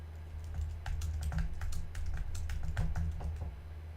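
Someone types on a computer keyboard, sending up a steady run of close, crisp key clicks at an uneven pace over a low background hum, with no talking.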